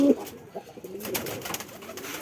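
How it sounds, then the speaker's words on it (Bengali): A Tiger Lakkha pigeon coos close by, with low throaty coos at the start and end and soft rustling in between. "আমার প্রিয় কবুতর এইটাই"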